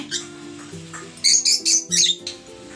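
Pet birds squawking and scuffling, a burst of several sharp, harsh calls close by in the middle, with quieter chirps before and after.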